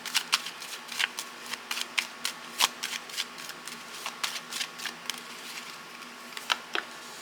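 Tarot cards are shuffled by hand in a quiet room, a run of crisp riffling flicks and soft slaps coming in irregular bursts, close and fairly faint.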